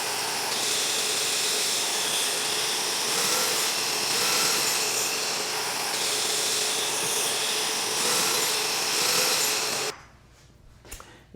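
A drill boring pocket holes in cabinet rails with a Kreg K5 pocket hole jig, running as one loud, steady whirring burst for about ten seconds before stopping abruptly.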